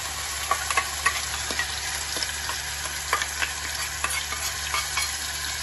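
Ground masala paste frying with curry leaves in a pan for a spicy green chana masala, a steady close sizzle with scattered crackles and stirring scrapes throughout, no voices.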